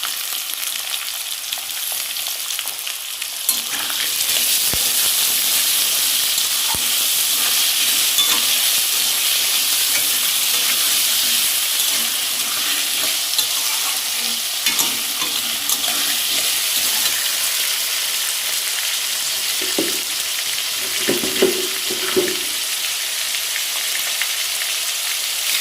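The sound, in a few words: potatoes sautéing with ginger garlic paste and salt in pan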